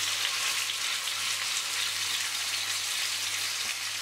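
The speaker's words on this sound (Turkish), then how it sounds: "bir miktar zeytinyağı ilave ettim ve etlerimi her yerini yüksek ateşte kısa bir süre kızarttım" Beef tenderloin sears in olive oil over high heat, a steady loud sizzle and crackle of frying throughout.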